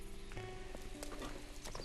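Steady clip-clop of horse hooves at a trot in the video game The Legend of Zelda: Breath of the Wild, close and continuous, over a low game-like background hum.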